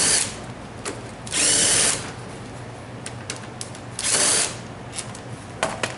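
A power tool loosens a brake caliper guide pin during a brake pad change, running in two loud bursts of about half a second each with short clicks and ratchet taps between them.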